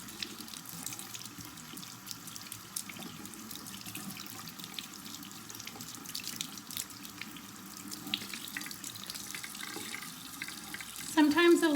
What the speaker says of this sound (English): I do use really hot water because I like to clean off any bacteria